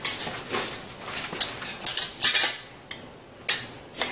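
Metal pot lid handled in a kitchen while pressure canning country ham and potato soup, giving a series of close, bright clinks and clatters scattered irregularly, with no talk.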